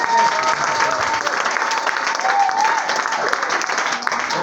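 A church congregation clapping to praise the Lord, dense sustained applause from many hands, loud and continuous with a few cheers woven in.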